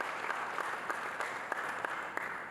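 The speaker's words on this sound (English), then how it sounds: "let's have a huge round of applause for Shri Boney" Steady audience applause at a cinema expo inaugural ceremony, an even, moderately distant patter of many hands with a few crisper claps standing out.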